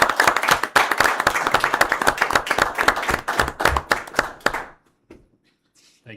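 Applause for the fire department at a board of directors meeting, a modest group clapping with distinct separate claps that taper off and stop about two-thirds through, leaving near silence.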